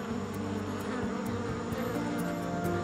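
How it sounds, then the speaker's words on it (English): Honeybees swarm around a towering rainforest tree in Borneo's Kinabatangan region, making a dense, continuous buzz that stays steady and close throughout. "honeybees"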